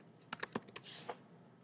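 Typing on a computer keyboard to enter a title for a slideshow, a quick run of close, crisp key clicks followed by a short pause and a final keystroke, with no talking.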